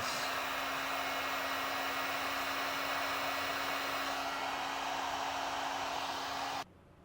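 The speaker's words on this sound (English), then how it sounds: "you just come back with a heat source, and that'll seal up the ends" A heat gun blows steadily for several seconds while shrinking heat-shrink connectors on trailer brake controller wiring, a loud continuous hiss with a low hum that cuts off abruptly near the end.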